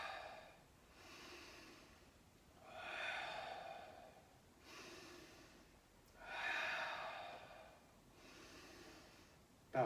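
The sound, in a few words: deep breathing during breath work exercise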